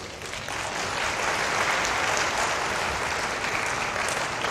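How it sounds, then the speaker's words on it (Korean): A seminar audience applauds a guest, and dense, even clapping builds quickly and holds steady and full throughout. "박수 한번 박수."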